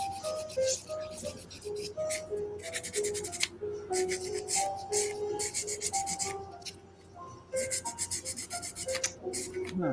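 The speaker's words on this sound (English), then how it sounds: "Just using my not God hands sanding sponges, Pabs." Rapid back-and-forth scratchy rubbing of sanding sponges on a model kit close up, in quick bursts with short pauses between strokes.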